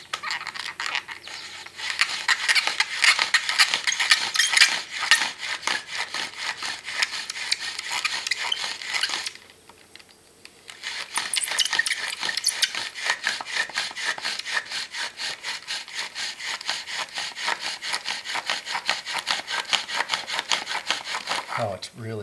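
A wooden spindle spun by a bow drill made entirely of natural materials grinds against a wooden board in fast, rhythmic back-and-forth rasping strokes. It is close and continuous, with a brief pause near the middle before the sawing resumes.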